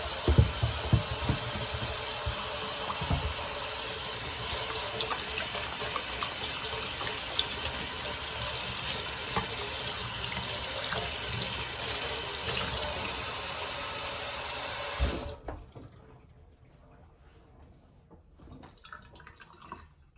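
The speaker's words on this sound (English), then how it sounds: "the first thing we're going to do is we're going to wash our hands" A kitchen tap runs steadily during handwashing, a continuous close splashing gush for about fifteen seconds before it shuts off, leaving quiet, faint handling sounds.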